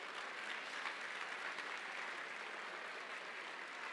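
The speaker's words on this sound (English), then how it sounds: "Round of applause for our judges." Steady, dense applause from an audience at a local celebrity dance competition event, honoring the judges, sustained and even for the whole stretch with no talk.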